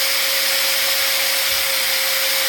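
A Bosch 1375A 4-1/2 inch angle grinder runs steadily throughout, a loud, continuous high-pitched motor whine close by.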